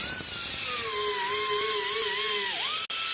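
A high-pitched rotary tool spins a Scotch-Brite pad against the metal intake of a big-block Ford 460 tunnel ram, a close, continuous whine that wavers slightly in pitch and cuts out abruptly near the end.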